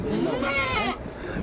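A mother goat bleats shortly after giving birth, one brief call heard close by with a voice speaking over it.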